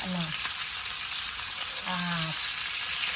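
Sausage frying in rendered bacon oil in a pan, a steady close sizzle running throughout with a couple of brief tonal squeaks from stirring or utensil contact.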